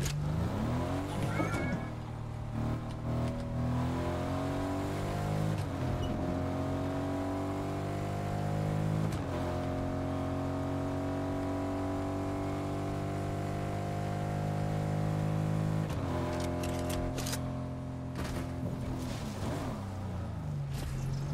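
A car in a video game drives along with a droning engine whose pitch climbs and drops through repeated gear shifts, a sustained synthetic whine over about twenty seconds, with no speech.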